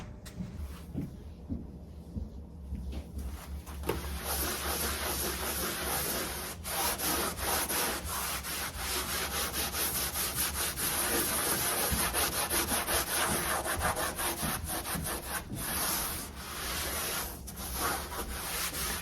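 A cloth rubbing Feed and Wax conditioner onto a dry antique wooden door, steady repeated scrubbing strokes close up, continuous and fairly loud for about nineteen seconds, with no voices.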